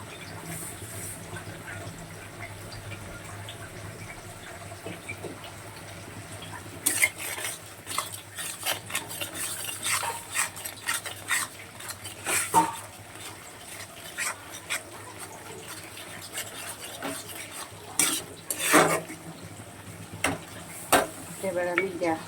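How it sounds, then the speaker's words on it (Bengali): Salt, turmeric and chili powder sautéing in a pan for a fish curry, a low sizzle under repeated scraping and clinking of a utensil against the pan, busier and louder in the second half, with a faint voice. "দিয়ে 3-4 মিনিট ভালো করে কষিয়ে নেব মশলাটা"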